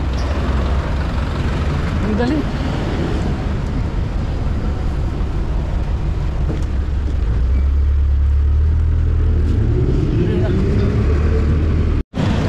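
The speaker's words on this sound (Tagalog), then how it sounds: "Sasakay tayo ng jeep." A jeepney riding through Manila traffic, a steady loud engine rumble and road noise with some gear changes, and people talking briefly over it.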